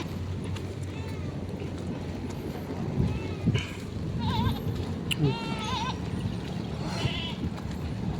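A goat bleats several times, wavering calls rising over steady rain and background noise on a roadside, moderately close and repeated every second or so.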